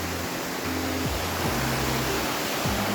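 A steady, loud roar of falling water from Usboy Falls fills the air, broad and continuous like a nearby waterfall, with a faint low hum underneath.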